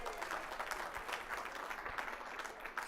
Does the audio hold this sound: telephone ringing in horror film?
no